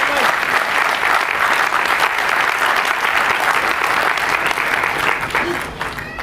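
An audience at a Hindi comedy poetry gathering in Ankleshwar, Gujarat claps loudly in a dense, sustained round of applause that tapers slightly at the end.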